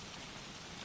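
Heavy rain falls steadily on a surface nearby, a dense, even hiss with scattered drop patter that holds level and alone throughout the short stretch.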